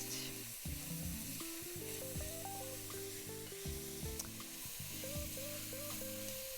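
Tomato paste sizzles in a pan for turkey chili, a steady soft frying hiss close by and fairly quiet, with a faint tonal hum running underneath.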